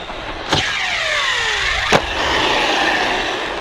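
Arrma Typhon V4 RC car on a full-throttle ramp jump, a loud whining motor sweep with two sharp impact thuds about a second and a half apart, close and clear with no talk.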